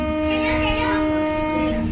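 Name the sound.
electric miniature model train running in railway museum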